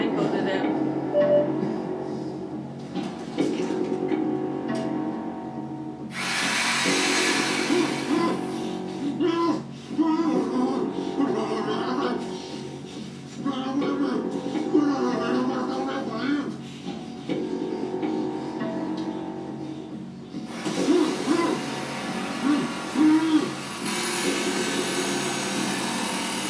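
Bursts of mechanical drilling noise from a scene in the TV drama Better Call Saul, heard over several long stretches with sustained whining and grinding, while people talk over it.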